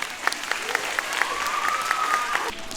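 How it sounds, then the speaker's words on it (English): At a family gathering, an audience applauds in dense clapping with a few sharper individual claps standing out near the front, and a voice sings or calls a sustained tone partway through. "Give these guys a big round of applause."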